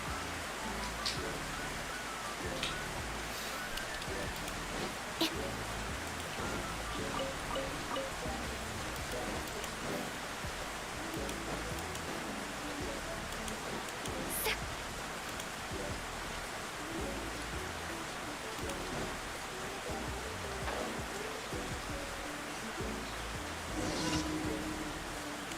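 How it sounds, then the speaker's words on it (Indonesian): Steady rain falls continuously, a dense even hiss of drops that stays at the same level throughout, with faint scattered patters and no voices. "Hujan."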